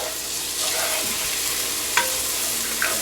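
Ginger garlic paste frying with dark-browned onions for goat curry, a steady close sizzle with stirring and a few sharp scrapes of the spoon against the pan.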